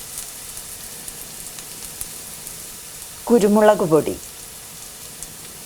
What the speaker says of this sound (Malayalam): ചതച്ച വറ്റൽമുളക്, കാശ്മീരി മുളക് പൊടി എന്നിവയിട്ട് വഴറ്റുക